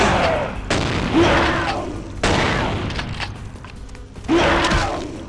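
Shotgun blasts in the video game Vampire: The Masquerade Bloodlines: three loud, booming shots spaced over a few seconds, each with a sharp attack and a trailing echo, no speech.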